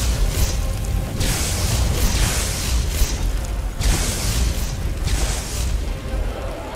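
Loud crackling electric bursts of a lightning spell in the video game Skyrim, in repeated waves, with sharp booming zaps pulsing over a dense, noisy roar.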